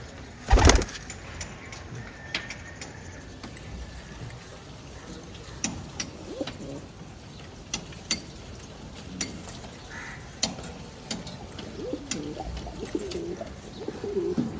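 Pigeons, including khaki-coloured birds, cooing close by in a steady series of soft, repeated calls at roughly one-second intervals, with a sharp knock near the start and faint background noise.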